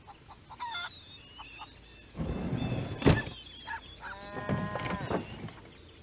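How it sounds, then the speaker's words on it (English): Hens cluck in short bursts with harmonic calls, near and fairly loud, over a busy farmyard background with a sharp thump midway. "Hen."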